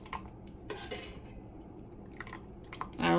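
Sea moss gel stirred in a pot on a stovetop, soft scraping and light metallic clinks of a utensil against the pot in short irregular strokes, quiet and close.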